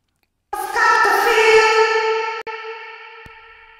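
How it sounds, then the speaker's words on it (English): A bright, ringing synth-like tone swells in and then lingers with a long, smooth reverberant tail that slowly fades, heavily washed in digital reverb. "algorithmic reverb, which means this digital reverb"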